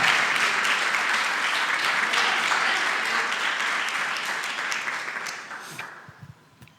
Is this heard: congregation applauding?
yes